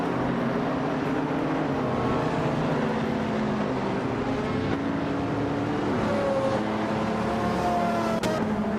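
Steady race car engine drone in a racing video game featuring a 1993 Porsche 911 Carrera RS. Several engines hum continuously and loudly, with gliding pitch shifts as cars accelerate and pass, and no talking.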